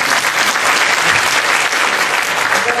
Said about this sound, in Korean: 힘찬 박수 다시 한번 부탁드립니다